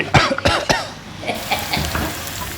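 Coughing from spicy cooking fumes in a kitchen, several sharp coughs close to the mic in the first second, followed by softer stirring and sizzling sounds.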